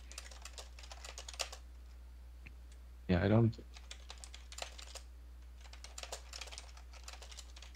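Computer keyboard typing during an online code review meeting, soft rapid key clicks throughout, with a brief voice speaking partway through.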